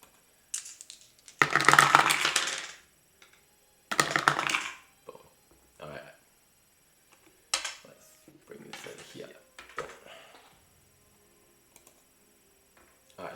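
Three dice rattle and clatter across a table in The Lord of the Rings: Fate of the Fellowship board game, with two loud bursts of rolling followed by fainter clicks and handling noises, and someone talks in between.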